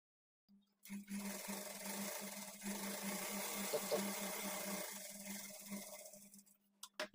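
A sewing machine stitches lining to the main fabric of a blouse, starting after a short click and running in a steady, close whir for about five seconds before slowing and stopping with a few taps.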